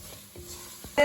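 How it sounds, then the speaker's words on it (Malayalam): Turmeric, garam masala, asafoetida and salt stirred in a pan for tomato rice, giving soft scraping strokes over a faint sizzle, with a louder clatter at the end. "മഞ്ഞൾപ്പൊടി ഗരം മസാല കായം ബാക്കിയുള്ള നമ്മുടെ ഉപ്പ് എല്ലാം കൂടെ നമ്മളിട്ട് ഇതിൻ്റെ പച്ചമണം മാറുന്ന വരെ ഒന്ന് ഇളക്കി കൊടുക്കണം"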